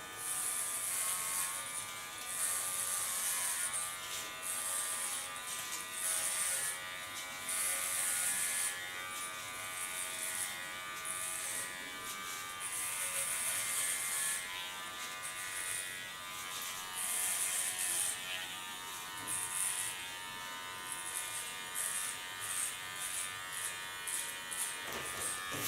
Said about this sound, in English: Put my clipper on.